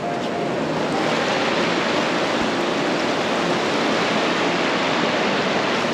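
The cold Beas river rushes over stones near Manali in winter, a dense, steady roar of flowing water that fills the whole stretch evenly with no talking.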